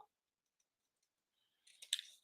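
A paper trimmer slices cardstock at an angle during card making: a single brief, crisp cutting swish comes near the end after nearly two seconds of silence.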